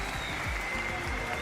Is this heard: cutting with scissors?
no